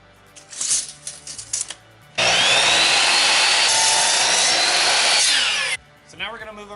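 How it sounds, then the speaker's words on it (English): A wooden board is sawn to length for a picture frame. A brief lead-in of handling noise gives way to a loud, continuous power-saw cut of about three and a half seconds, then the blade winds down to quieter clatter. "I'm just gonna cut this to 30 inches."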